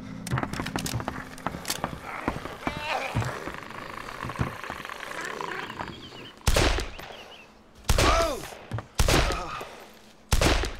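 Gunfire in the video game DayZ: a few sharp, loud shots crack out in separate bursts after a stretch of quieter footsteps and movement, with a voice briefly heard.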